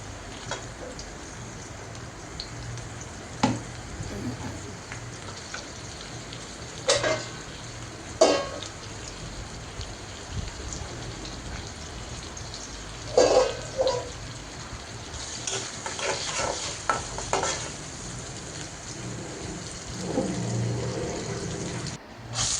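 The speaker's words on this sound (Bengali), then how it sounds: "এখন আমি ডালটা বাগার দিয়ে দিব" Onion, garlic and dried chili frying in oil for a dal tempering crackle in a soft, continuous sizzle, broken by several sharp clatters and scrapes of stirring and utensils.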